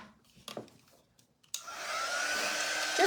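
A handheld hair dryer blows on a craft transfer: a few soft handling taps, then the dryer switches on into a steady, close, airy whoosh that holds to the end.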